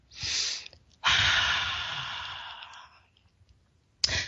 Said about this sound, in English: take a moment for yourself and take a deep, deep, deep, deep breath.